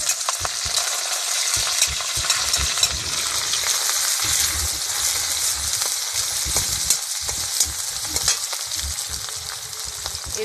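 Chopped onion, chili, ginger paste and garlic paste fry in a pan for tomato tarka, making a dense, steady sizzle up close with irregular stirring scrapes and crackles, no one speaking.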